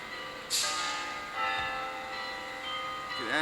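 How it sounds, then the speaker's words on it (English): Belfry bells ring out from a church in the background, a few clear, resonant strikes with long overlapping decays, moderately distant. "hear the belfry ringing."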